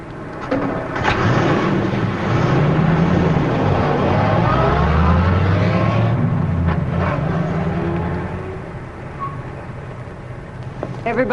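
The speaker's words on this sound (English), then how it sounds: "My car is right over here." A 1940s-era car engine runs at a steady idle and drive, a continuous low rumble that fades somewhat toward the end, with people talking over it.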